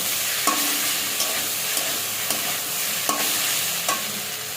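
A lentil dish being sautéed in a pan, with a continuous sizzle and regular scraping strokes of a spoon every second or so, close up and without speech.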